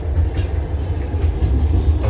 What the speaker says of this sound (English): This is an old version of the trains.